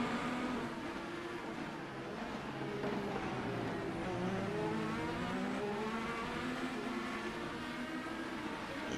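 IndyCar race car engines howl steadily around the Long Beach street circuit in iRacing, with high revving pitch sweeping up and down through gear changes at close, loud range.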